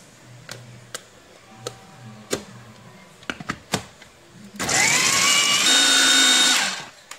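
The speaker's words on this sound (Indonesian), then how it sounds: "Biar kita blender." A couple of sharp clicks and knocks come first, then a countertop blender roars loudly for about two seconds, whirring coriander leaves with a little water for taameya falafel.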